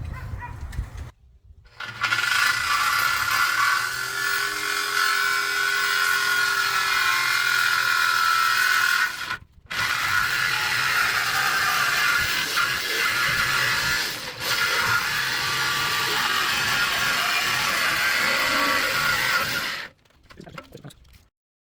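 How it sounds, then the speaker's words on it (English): A jigsaw cutting through steel during a smoker build, a loud harsh buzzing cut that runs in long stretches with brief pauses between passes, close by and with no talk. "I'll just finish it with the jigsaw."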